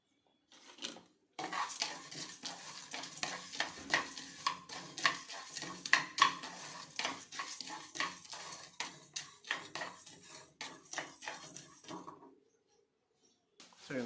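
Stirring and scraping pumpkin and sunflower seeds roasting in a pan, with a steady run of light clinks and rattles over a soft sizzle, continuing for about ten seconds.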